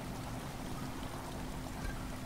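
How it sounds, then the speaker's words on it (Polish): Water slowly fills a room in the video game Amnesia, a faint, steady rushing and trickling wash with no other sounds. "Woda pomału wypełnia."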